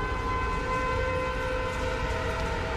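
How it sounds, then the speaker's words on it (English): A sustained, droning siren wails steadily throughout in The Callisto Protocol, layered with steady tonal hum and no voices. "Anybody else hear the ear-ringing sirens?"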